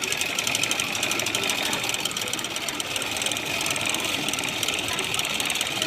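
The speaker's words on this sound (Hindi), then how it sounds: "एकदम स्ट्रेट सिलाई लगानी है" Sewing machine stitching a straight seam along a folded half-inch hem on plain blouse fabric, a steady, fast mechanical whir and clatter running continuously and close with no pauses.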